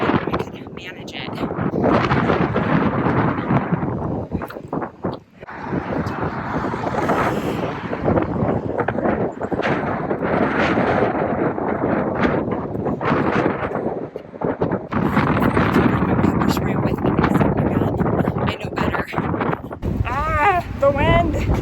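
Strong gusting wind roars across the microphone of a runner outdoors, loud and continuous with brief lulls, buffeting close up while a person speaks over it in bursts.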